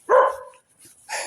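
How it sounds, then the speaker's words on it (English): A dog barks at people walking past outdoors on an evening walk in Quincy: one loud, close bark followed by a faint yip and another short bark, with no talking. "It just barks at people just walking by."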